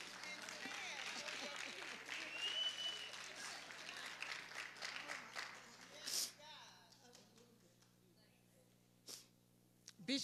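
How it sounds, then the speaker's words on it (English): A church congregation clapping their hands for a lady being honoured, a burst of lively applause mixed with voices that fades out partway through, leaving a quieter room with a few scattered sounds. "Just clap your hands for this lady."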